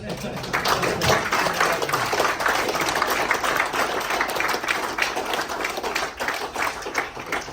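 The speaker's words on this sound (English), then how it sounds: "Now give yourselves all a round of applause." Steady applause from a crowd at a veterans' dinner fills the whole stretch, dense clapping with talk mixed in underneath.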